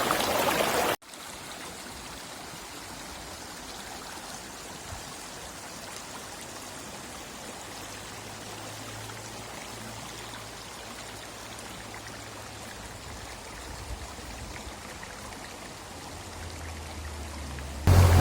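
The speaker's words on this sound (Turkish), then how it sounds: "Hemen Erzurum Deresi'ne dökülüyor işte Kokarsu." Sulphurous spring water pours into the Erzin stream in the Amanos mountains of Hatay, a steady, moderately quiet rushing flow heard alone, with a faint low hum toward the end.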